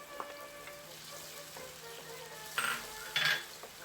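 Baguio beans and carrot are added to a pan of pork for chopsuey, giving a soft, steady sizzle with light stirring and a couple of brief, brighter clatters near the end.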